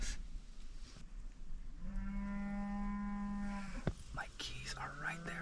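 A cow lets out a long, deep moo in an open outdoor setting, drawn out for about two seconds and fading into breathy noise, with faint rustling and a brief sharp knock around it.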